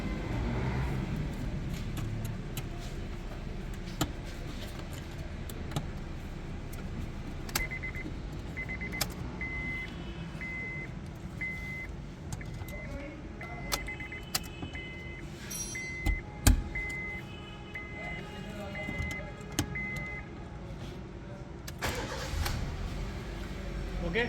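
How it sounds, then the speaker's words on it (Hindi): A Honda City car after fuel system repair cranks and starts, engine idling steadily with clicks and small clunks around it, and someone talks over the running engine. "तो अभी गाड़ी करते हैं हम स्टार्ट और चेक करते हैं।"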